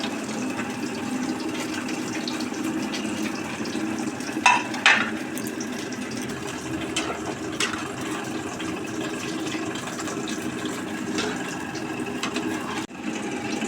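Chicken pieces go into a pan of cooked-down masala with green chillies for chicken butter masala, giving a steady, moderate sizzle with a couple of soft clunks as the pieces land.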